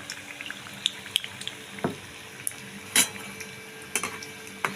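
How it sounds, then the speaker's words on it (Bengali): Cauliflower fritters in gram-flour batter fry in oil with a soft, low sizzle, broken by a few close clicks and spatters as pieces are moved. "এবার বাড়িয়ে আমি পকোড়াটা পুরো ভেজে তুলে নেব।"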